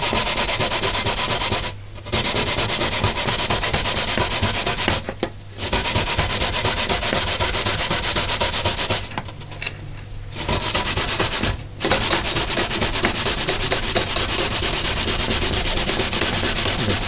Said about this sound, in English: grate this, grate it, grate it, grate it, grate it